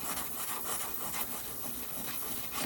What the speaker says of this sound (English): So now I use different grit sandpapers and I just blend it in to the rest of the ring